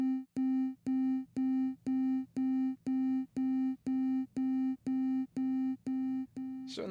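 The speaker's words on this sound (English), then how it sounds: "You can hear that the delay is actually increasing in volume." Tone bursts repeat through the AIR Delay Pro delay plugin, about a dozen evenly spaced pulsed beeps roughly every half second that stay level, then give way to a brief noisy smear at the end.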